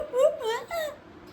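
A voice imitates a monkey with three quick, rising whooping calls, close and fairly loud, followed by a short quiet tail.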